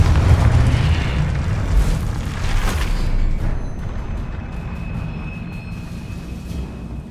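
Confringo spell explosion in Hogwarts Legacy: a loud, rumbling blast that roars at first and then tails off into a long, fading boom.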